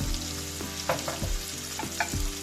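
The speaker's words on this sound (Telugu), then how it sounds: "ఇప్పుడు ఫ్రై చేసుకున్నామండి ఉల్లిపాయలన్నీ." Chopped onions fry in a pan for an aloo curry with turmeric and salt, giving a steady close sizzle broken by several dull knocks and scrapes as they are stirred.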